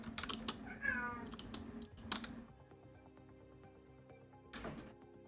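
A pet cat meows around the first second, with quiet keyboard typing and clicks running through the rest, the meow clear but brief over the tapping.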